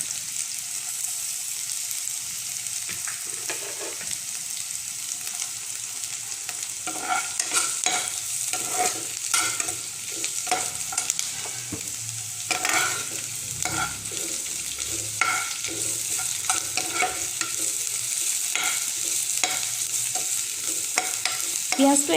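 Garlic frying in hot oil in a pan for an Assamese dish, with a steady sizzle and repeated scraping stirs throughout, close and moderately loud, no talking.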